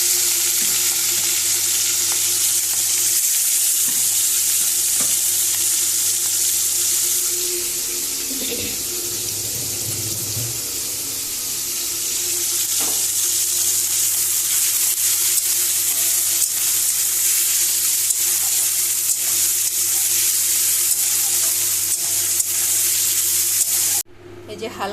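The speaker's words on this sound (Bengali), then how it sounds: "এবার চিংড়ি মাছগুলো আমি নুন হলুদ মাখিয়ে নিয়েছি। এবার এগুলো ভেজে নেব।" Small shrimp coated in salt and turmeric fry lightly in oil in a wok, making a continuous broadband sizzle that dips briefly midway and cuts off near the end.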